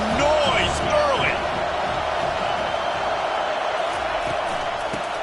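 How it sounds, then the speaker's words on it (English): Stadium crowd noise in the American football video game Madden 25, a steady broad roar of fans that stays constant throughout, with faint higher whistles and calls mixed in early on. "This crowd bringing the energy and noise early."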